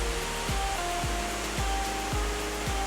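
A forest waterfall and calm, deep river in Karo Regency rush in a steady broadband roar, close and constant, with a faint recurring low thump under the water.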